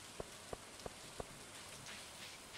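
Steady rain falls in the farming game Stardew Valley, a constant soft hiss with a few sharp drip-like ticks early on, heard alone with no music or voices.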